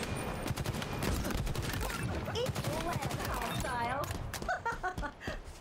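Rapid bursts of gunfire from a weapon in the shooter game Halo Infinite, dense and continuous, layered with game effects and voices talking over the shooting.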